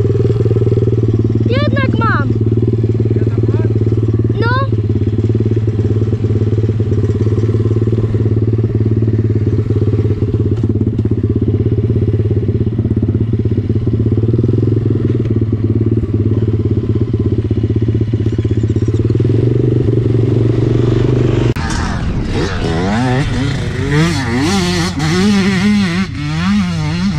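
A motorcycle ridden on a race track drones steadily at high revs, then shifts and revs up and down near the end; people talk throughout over the engine.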